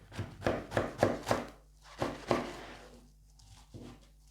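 Knife chops through half a head of Napa cabbage on a board for a fresh salad, about seven crunchy cuts close and clear, spaced fairly evenly with a short pause midway.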